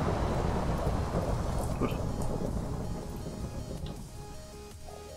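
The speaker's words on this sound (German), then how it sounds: "es gewittert halt so laut" Loud rumbling thunder with steady rain hiss from a Minecraft thunderstorm fills the scene, slowly easing off; a voice speaks a single word briefly over it.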